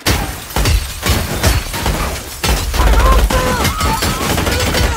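Gunfire from a SWAT team in the Max Payne movie, dense overlapping shots and crashing bursts filling the clip, loud and continuous with a brief dip midway and some voices mixed in.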